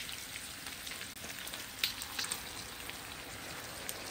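Shrimp cooking in a pan for chipotle shrimp give off a steady, moderately quiet sizzle with scattered small pops and crackles, heard on its own with no voices.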